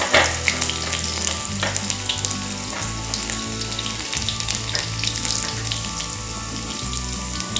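Dried red chilli and crushed ginger sizzle in hot oil while the pan is stirred, a loud, close crackle with scraping strokes and music underneath, without talk.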